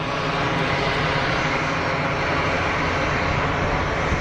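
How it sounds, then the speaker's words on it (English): Swiss Airbus A320 engines at Geneva Airport, a loud continuous roaring whine as the jet taxis, steady and unbroken throughout. "Swiss 320 pushed back and about to taxi."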